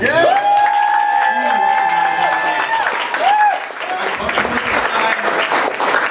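Audience applause for a woman at a live event, steady and full for about six seconds, with cheering and whistle-like tones riding over dense clapping close to the listener.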